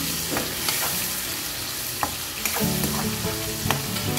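Pakbet vegetables with tuna get stirred in a hot pan, a close scraping and clinking of a utensil over steady sizzling frying, with irregular knocks and shuffles throughout and no talk.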